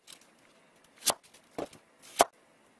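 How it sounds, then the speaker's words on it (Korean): A knife cuts an apple into eighths, giving three separate crisp chops against a cutting board in a quiet room, each one short and sharp. "이렇게 자른 사과를 다시 한번 반씩 나눠서 총 8등분이 되게끔"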